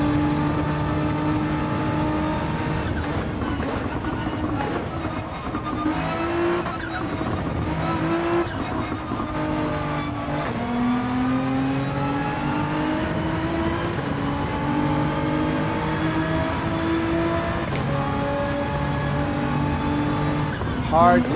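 A Nissan GTR race car in the Gran Turismo video game, its engine note rising and falling continuously through a lap with revving, tyre squeal and bursts of acceleration, steady and close throughout, with talking over it.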